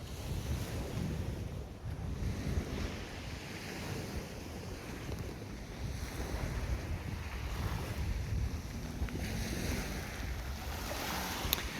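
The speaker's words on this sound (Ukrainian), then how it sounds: "Море прекрасне, просто прекрасне. Чарівне море." Steady Ionian Sea surf washing ashore at Zakynthos, a continuous rumbling wash of waves with wind buffeting the microphone throughout.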